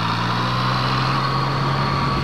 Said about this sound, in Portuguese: o motor reage a qualquer rotação, mesmo baixas como vocês viram ali. Só rosna um bocadinho se estivermos em muito baixas rotações